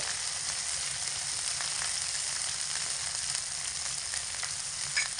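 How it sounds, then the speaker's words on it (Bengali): Dried red chili paste with salt and turmeric frying in a pan over medium heat, a steady dense sizzle that holds evenly throughout with faint stirring scrapes, no voices. "এবার এই সমস্ত কিছুকে একসঙ্গে মিডিয়াম আঁচে রেখে ভালো করে কষিয়ে নেব"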